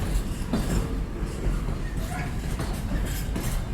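A GBRf Class 66 diesel locomotive, number 66724 'Drax Power Station', heads a train over points, giving a loud, close run of heavy rhythmic thumps and bangs over a deep rumbling roar.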